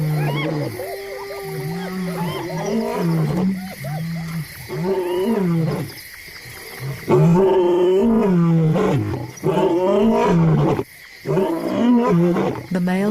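Male lions roar at night in the Luangwa Valley in loud, repeated, deep calls with grunting pulses, rising and falling over a long sequence and heard alone.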